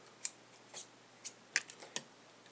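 Scissors snip adhesive tape off a GoPro mount, five or six short crisp cuts at irregular intervals, close and fairly quiet against a still background.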